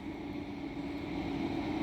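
A farm tractor passes with its load on a country lane in the Northamptonshire hills, a steady low engine drone holding at moderate loudness throughout.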